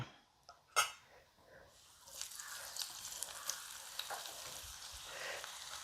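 Ivy gourd pieces drop into hot oil with a sharp clatter, then settle into a steady, crackling sizzle with small pops that carries on close and fairly quiet, with no voices.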